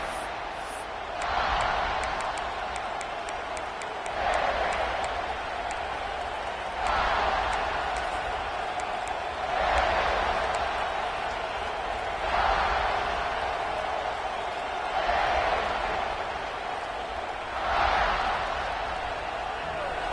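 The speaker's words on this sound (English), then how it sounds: "This crowd ready to make its presence known." Stadium crowd at a Rice vs South Carolina college football game, a steady roar with swells every few seconds under the broadcast, loud and broad throughout.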